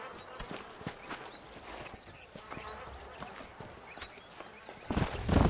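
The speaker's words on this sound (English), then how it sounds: "We can really do with those horses." Horses in Red Dead Redemption run over open ground near Armadillo, with quick, fairly faint hoofbeats against a noisy outdoor background and a louder burst near the end.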